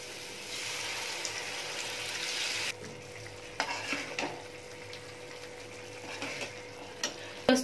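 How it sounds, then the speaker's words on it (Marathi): Water hits frying masala for a dhaba-style egg masala and bursts into a loud, hissing sizzle that cuts off abruptly, leaving a quieter simmer with scattered utensil clinks and light stirring. "मी आता पाणी टाकून घेत आहे।"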